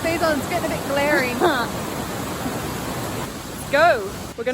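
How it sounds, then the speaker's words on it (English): Killen Falls in Byron Bay sends out a steady rushing roar of falling water, heard close by beneath several people talking. "I can hear the waterfall."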